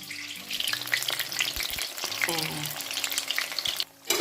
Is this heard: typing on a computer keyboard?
no